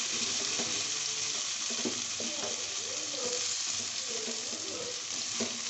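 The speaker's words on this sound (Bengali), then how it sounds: "এই মাছ ভাজার সেম তেলে এবার আমি এরকম ডুমো ডুমো করে কাটা ঝিঙাগুলো একটু ভেজে" Diced ridge gourd frying in oil already used for fish, a continuous soft sizzle with occasional stirring scrapes, fairly quiet and steady with no talk.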